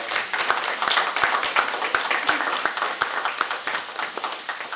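Scattered clapping from a small audience at a party leadership meeting, honoring outgoing leaders, a few seconds of light, uneven applause in a room.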